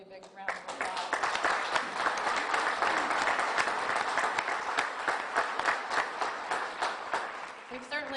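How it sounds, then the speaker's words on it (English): A big round of applause from an audience at a Baton Rouge General ceremony marking the end of a COVID-19 mission for Navy sailors, steady dense clapping that swells quickly and holds for several seconds. "So let's give Lee a big round of applause."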